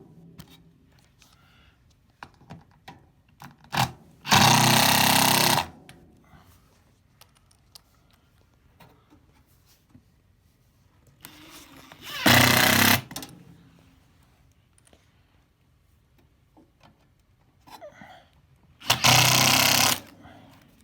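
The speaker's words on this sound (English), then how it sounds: "We'll put another screw in." A power screwdriver drives screws while a baseboard register is installed: three separate loud whirring bursts about a second long, spaced several seconds apart, with quiet handling noises in between.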